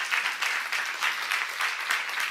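Applause from a church congregation, steady rhythmic clapping of many hands at moderate distance, continuous and fairly even throughout.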